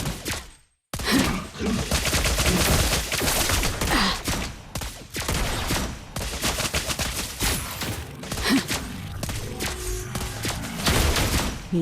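Dense, rapid gunfire rattles almost continuously in the Mobile Legends video game, with loud overlapping shots and impacts after a brief silent gap at the start.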